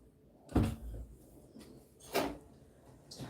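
A door banging shut during a live crochet session at home: two separate hollow knocks about a second and a half apart, close by and moderately loud, with quieter rustling between them.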